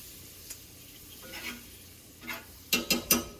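Steaks sizzle softly in a pan as they are basted with butter and cream, a low steady frying hiss with a few sharper spoon-and-pan clicks bunched near the end.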